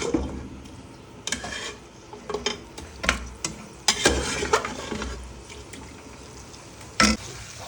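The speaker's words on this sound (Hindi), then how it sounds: "ये जो हमारा ये गल चुके हैं पाए, ये मैं इसमें डाल के इसको भूनूंगी" Tender goat trotters being sautéed and turned in ghee masala, giving irregular clattering stirs and scrapes against the pot over a low sizzling bed, loud close bursts spaced unevenly.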